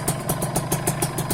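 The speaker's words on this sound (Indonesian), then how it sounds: "Kalau sudah diganti knalpot variasi racing seperti ini, ya tidak bakalan halus yang namanya Ninja" A Kawasaki Ninja two-stroke motorcycle fitted with an aftermarket racing exhaust idles close by, its uneven, popping beat pulsing in a steady rough rhythm with no voices.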